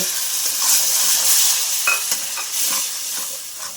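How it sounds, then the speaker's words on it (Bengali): Tomato paste stirred and fried in a spice mix for paneer curry with cashew paste, giving a steady close sizzle with scattered spoon scrapes and clicks, no voices. "2 মিনিট টমেটো বাটাটা 2 মিনিট নেড়েছি, তেল ছেড়ে দিয়েছে"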